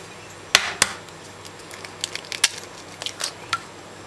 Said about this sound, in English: this time I need to crack 3 eggs